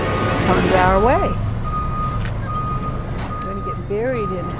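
A truck loaded with mulch sounds repeated reversing beeps outdoors at a high school, the tones over a running engine and background voices.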